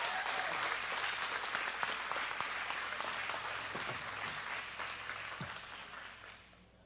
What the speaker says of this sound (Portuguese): Uma salva de palmas às nossas irmãs.